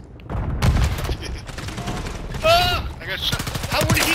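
Video game gunfire hitting the player: bursts of automatic fire and sharp shots in quick succession, loud and close, with game effects and brief tonal chirps mixed in.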